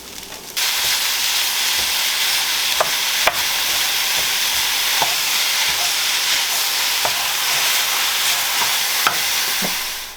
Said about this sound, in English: And we are going to actually brown our meat right in here with this.